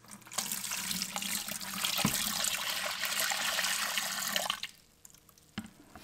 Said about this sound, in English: we're gonna add our 1 liter of our dehumidifier water